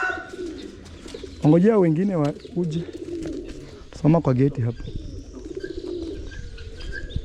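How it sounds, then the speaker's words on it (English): Pet pigeons coo in soft, rising-and-falling phrases at close range, two clear bursts amid a yard setting, with people talking in Swahili over and between the calls. "So here you see, my pigeons are here, they are enjoying."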